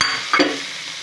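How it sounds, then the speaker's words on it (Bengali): Fried fish roe is stirred through a sizzling paste of garlic, onion, dried chili, turmeric and salt in a hot pan, giving a short burst of loud frying with one scraping stir. "মশলা কষানোর পর ভাজা ডিমগুলো দিয়ে ভালোভাবে কষায় নেব।"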